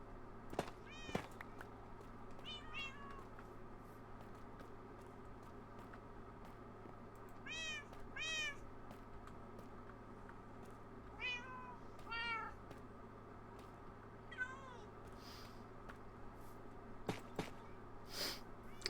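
Several cat meows from a Minecraft cat ring out in short bursts over a steady low hum, with a few soft snorts in between and no talking.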